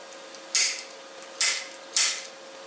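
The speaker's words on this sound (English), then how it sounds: "I'm going to take this punch and just put a punch mark in it." Three sharp metallic strikes of a hammer on a center punch, marking a welded metal piece with hard facing weld, spaced unevenly and ringing briefly over a faint steady hum.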